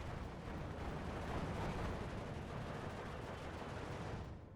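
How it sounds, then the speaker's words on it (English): Steel Division 2 StuG assault guns lay down a barrage of dense, continuous rumbling fire. The shots blend into a sustained roar that fades slightly at the end. "they start to barrage him with Stugfire"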